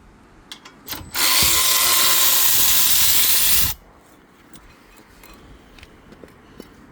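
A powered ratchet spins off brake bracket bolts during a front brake pad and rotor job on a 2020 Hyundai Kona. One loud, close, steady whirring burst lasts about two and a half seconds, with faint tool clicks before and after.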